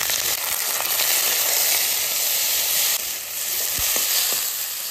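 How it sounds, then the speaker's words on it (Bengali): Shrimp and green chillies fry in hot oil with a steady, loud sizzle and faint stirring clinks, continuous and close with no voices. "এটা ভেজে বাটা করবো, এই যে চিংড়ি মাছ আর কাঁচা লঙ্কা।"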